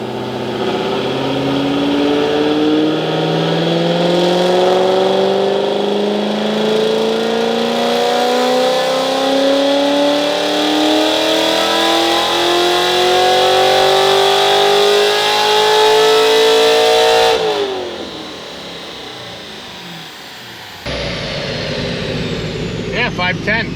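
A Corvette C7 Grand Sport, warmed up and run on a dyno on stock tires, revs in one long rising pull, engine pitch climbing steadily and loud for about seventeen seconds before cutting off, then a lower idle follows.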